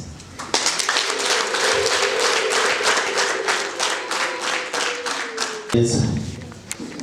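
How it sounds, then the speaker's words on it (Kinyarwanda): Guests at a Rwandan traditional wedding ceremony clap loudly in a brisk, even rhythm for several seconds, with a sustained vocal cry carried over the claps, then the clapping breaks off into a jumble of voices. "ndashaka ko numva amashyi menshi n'impundu dushimira umusangiza w'amagambo wacu mwiza"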